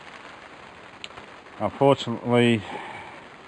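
Rain falling steadily outside a camping awning, an even close hiss of drops that continues alone at first, then under someone talking.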